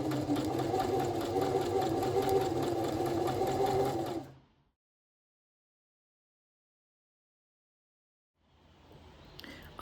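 Domestic sewing machine stitching long gathering stitches at its longest stitch length on a spring dress, a steady loud whirring for about four seconds before stopping, then silence and a soft resumption of noise near the end.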